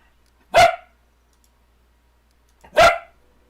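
A dog gives two short, loud barks about two seconds apart, close by, with quiet in between and no talking.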